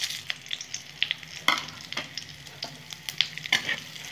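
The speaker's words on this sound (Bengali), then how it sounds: "ফোড়নটা একটু ভাজা ভাজা করে নেবো।" Whole cumin, cardamom, cinnamon, cloves and bay leaf frying in hot oil, crackling and popping closely with quick irregular spits and light stirring scrapes, and no voices.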